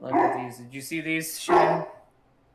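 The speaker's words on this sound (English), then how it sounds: "If you can hear my dog barking" A dog barks a few times close by, the yaps mixed in with people talking over it.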